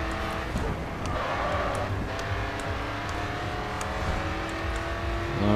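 Race car in Grid 2 accelerating hard and downshifting from third to second gear, a steady engine roar with shifting harmonic tones, close and continuous, with occasional tyre noise.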